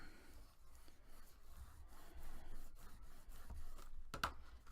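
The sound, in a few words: burnishing paper along lined-up center lines, box craft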